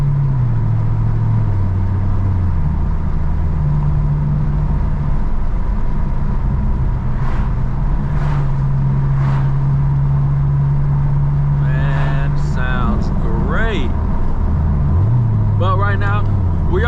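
A Camaro SS with opened-up exhaust is driven at night, its engine droning loud and close as revs rise and fall through shifts, with someone talking over it at times.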